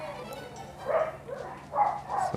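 A dog barks in the video game Pokémon Emerald, sounding as a few short electronic yips in separate bursts, loud and close, with no talk over them.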